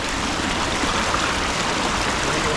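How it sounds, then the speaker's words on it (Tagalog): Strong river current rushing in a forest setting, a dense, steady broadband wash of flowing water, loud and close throughout without pause. "Lakas ng agos yan"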